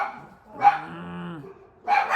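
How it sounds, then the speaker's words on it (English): A big dog outdoors barking, with a couple of muffled barks and a lower drawn-out vocal sound between them, heard from somewhere nearby. "they're being activated by a dog outside"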